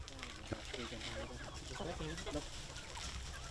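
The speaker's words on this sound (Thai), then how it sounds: "บางครอบครัวยังเลี้ยงไก่ เอาไว้เป็นแหล่งอาหารของครอบครัวด้วย" Village chickens cluck in short, choppy bursts close by, with a busy outdoor background of rustling and faint voices in a rural northern Thai community.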